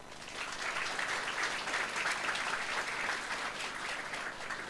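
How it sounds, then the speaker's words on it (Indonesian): A crowd of young people at a public talk claps steadily, a dense, even applause from a sizeable audience that holds at a constant level for about five seconds without fading. "Siapa di sini yang datang dengan kendaraan pribadi boleh tepuk tangan?"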